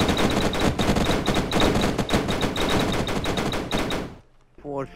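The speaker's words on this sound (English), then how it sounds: "Your friends are shooting." Rapid automatic gunfire in the survival game Unturned, with dense close bursts of shots rattling for about four seconds, then cutting off into near silence before a voice briefly speaks.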